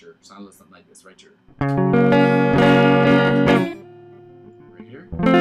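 Guitar playing side chords, heard as a few loud strummed chords that ring out between brief stretches of quiet, softer picking.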